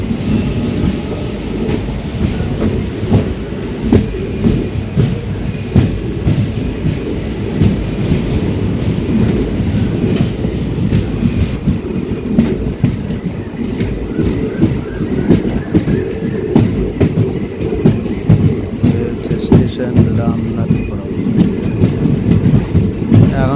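A train rumbles steadily along the rails near Ramanathapuram, Tamil Nadu, with a rhythmic clickety-clack of wheels, loud and close, continuing without pause and with no one talking.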